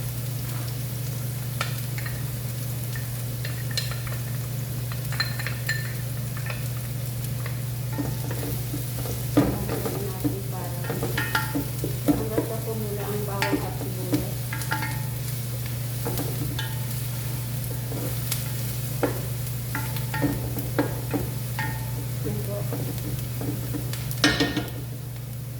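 Garlic stir-fried in a pan gives a continuous steady sizzle with a constant hum underneath, broken by scattered scrapes and clinks of a utensil against the pan, close and uninterrupted by talk.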